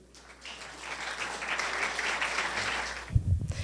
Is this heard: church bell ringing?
no